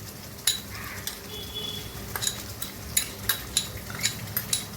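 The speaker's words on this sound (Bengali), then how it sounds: "একবার নাড়াচাড়া করে মিশিয়ে দিয়ে নামিয়ে নেব" Katla fish korma with fried onions is stirred in a pan. A spoon strikes and scrapes the metal in a run of sharp, irregular clinks over a faint low sizzle, and no one speaks.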